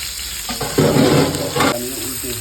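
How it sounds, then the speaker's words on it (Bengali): Marinated sea poa fish goes into a little hot oil, giving a short burst of sizzling and crackling close by, with light kitchen clatter around it. "অল্প তেল দেবেন এই যে মাখানো রেখে দিয়েছে এখন এইভাবে ভেজে দিবেন"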